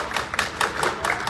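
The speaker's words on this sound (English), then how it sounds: "let's clap it up for Women in Law" An audience at a campus meeting claps for Women in Law, a brief, modest patter of hands lasting only a moment.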